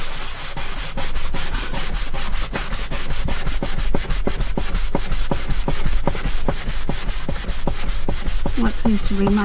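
Cloth rubbing back and forth on a Kampa Air awning's plastic window with isopropyl alcohol, a steady run of rapid scrubbing strokes up close and fairly loud, with a brief other noise near the end.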